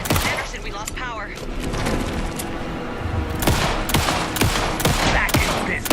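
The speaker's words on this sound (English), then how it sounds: "Anderson, put him down with gunfire for me to get the light on" Rapid bursts of gunfire in the video game Alan Wake 2, loud and repeated over the whole stretch, with in-game voices talking through the shooting.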